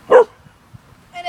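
A dog gives a single short, loud bark up close, followed by quiet and then a brief higher whine-like yelp.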